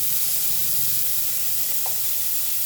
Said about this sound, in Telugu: కరివేపాకు, అల్లం వెల్లిపాయ పేస్ట్ వేసుకుందాము